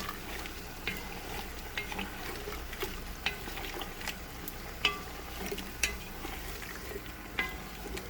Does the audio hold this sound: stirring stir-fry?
yes